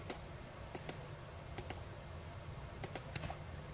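Light, crisp keystrokes on a computer keyboard while working in AutoCAD, arriving in short clusters of two or three clicks separated by brief pauses, close and fairly quiet against a faint background hum.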